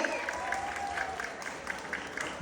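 Audience applause at a school pageant, a steady wash of clapping from a crowd, moderately faint and continuous throughout.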